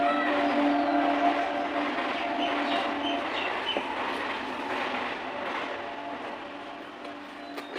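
A train rumbles past with a steady, broad roar that slowly fades, heard from nearby with no voices.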